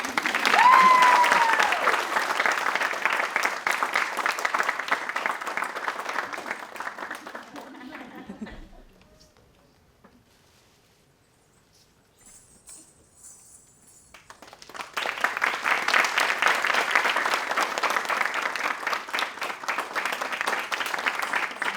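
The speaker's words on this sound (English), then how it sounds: "And more applause." Audience applauding at a Bharatanatyam arangetram, a sustained wash of clapping that fades to near silence midway, then swells back to full, dense applause.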